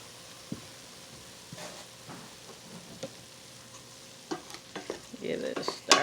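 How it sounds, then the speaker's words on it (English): Mushroom and onion mixture cooking down in a pan, a soft steady sizzle broken by scraping stirs and clinks that grow busier and louder toward the end. "here is the mushroom onion mixture cooking down nicely."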